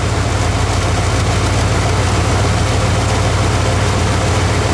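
Junkyard truck engine idling steadily just after an ignition coil replacement, a loud, close, low rumble that runs evenly without stumbling, with no talking.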